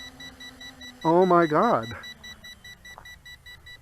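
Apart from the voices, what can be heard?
beeping from a Snaptain SP7100 drone after landing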